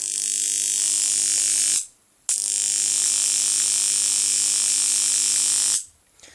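A high voltage transformer powered from AC mains gives a loud, steady electrical buzz with a strong hum. The buzz cuts out briefly, starts again, then stops at the end.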